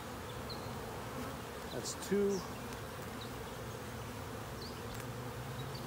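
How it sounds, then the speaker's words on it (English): Dense, continuous buzzing of many honey bees in a hive, a steady droning hum close by, with a brief spoken remark partway through. "I gotta give these bees some more space."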